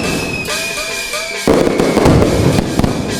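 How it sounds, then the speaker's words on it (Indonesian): Firecrackers set off during a village celebration with dancing and music, a dense run of loud crackling bursts that swells after the first moments, with a tonal musical line underneath at the start. "membunyikan petasan"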